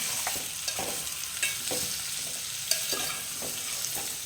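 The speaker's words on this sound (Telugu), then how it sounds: "నీట్గా కలుపుకోవాలి ఆయిల్లో." Potatoes for a curry are stirred in hot oil with a spoon, steady sizzling hiss running under irregular scraping strokes against the pan, close and moderately loud.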